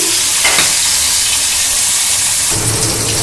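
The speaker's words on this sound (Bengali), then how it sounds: "আমি কিন্তু একবারে 3 পিস মাছ ভাজতে দিয়ে দিয়েছি" Three pieces of hilsa fish fry together in hot oil, making a loud, close, continuous hissing sizzle that swells slightly toward the end.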